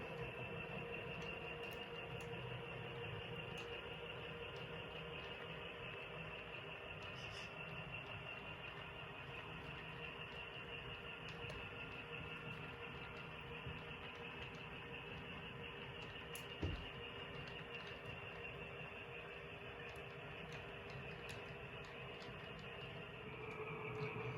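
A model train rolls slowly into a yard's arrival-departure track with a steady hum and faint rail squeals, one sharp click partway through, no voices.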